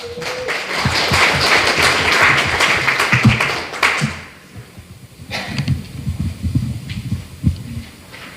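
Audience at a policy forum on school violence and slow learners' right to education claps in a dense burst for about four seconds, then fades into quieter room noise with a few scattered taps.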